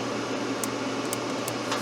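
Blower fan of an older Englander pellet stove heating a garage, a steady whooshing hum with a low drone, continuous and unchanging.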